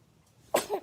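A single small sneeze from a baby, close and brief, rising out of near silence.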